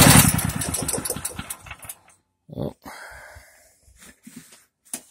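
A Firman H07552 dual fuel generator running on propane chugs in a rapid, choppy rhythm up close, then drops into uneven, sputtering bursts separated by short gaps of near silence.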